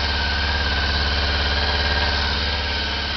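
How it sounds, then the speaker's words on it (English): A 1989 Honda CB-1 motorcycle fitted with a Triumph Speed Triple silencer idles steadily up close, with a deep, even, throbbing exhaust note and no voices. "Triumph Speed triple pipe on the CB-1 now, and it's actually pretty goddamn awesome."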